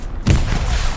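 A grenade goes off in a tactical shooter video game match, a sudden loud close blast with deep low rumble that rings out and lingers for about a second.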